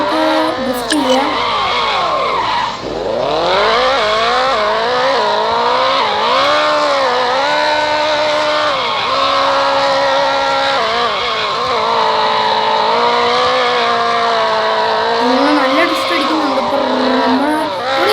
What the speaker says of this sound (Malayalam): അന്നേരം നമുക്ക് എയർപോർട്ടിൽ നമുക്ക് ഡ്രിഫ്റ്റ് ചെയ്യാം.